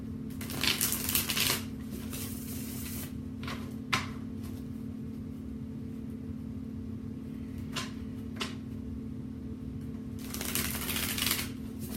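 Tarot cards riffled and shuffled by hand, a few short crisp bursts of card noise spread across a quiet indoor stretch, with a steady low hum underneath and no talking.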